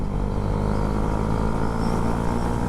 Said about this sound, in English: Got a roar to your exhaust on there.